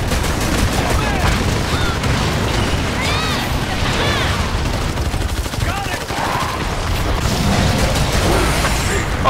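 Continuous gunfire and booming in the Evolve video game during an intense hunter fight, dense and loud throughout, with voices talking and shouting over the shooting.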